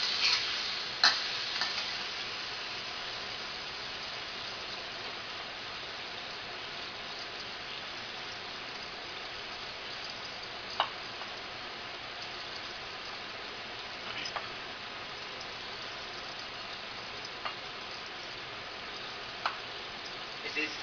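Tofu fries in a pan with a continuous bright crackling sizzle, moderately loud and even, broken by occasional small pops and taps.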